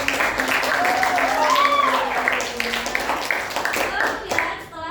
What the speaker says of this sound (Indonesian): Berikan tepuk tangan terlebih dahulu.